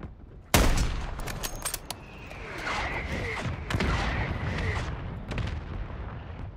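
Mortar strike explosions in the battle royale game Vondel: a sharp, loud blast opens, followed by scattered booms, crackling impacts and rumbling aftershocks.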